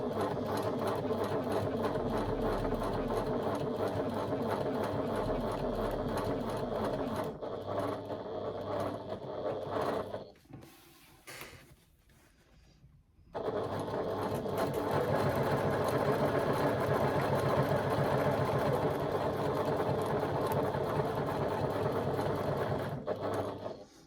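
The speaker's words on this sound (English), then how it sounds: "Remember, when you're sew basting, you're basting using the longest stitch length you have on your machine." A sewing machine sew-bastes with its longest stitch length, a steady rapid mechanical clatter that pauses briefly midway, then resumes at the same even pace.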